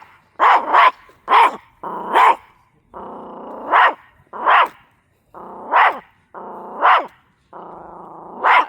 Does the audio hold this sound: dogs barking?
yes